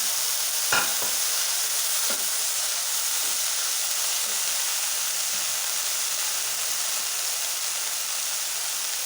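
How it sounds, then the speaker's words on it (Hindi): Boiled peas frying in a pan give off a continuous close sizzle and hiss, with a few utensil scrapes and stirs early on and quieter stirring after that. "इसको थोड़ी देर भूनेंगे।"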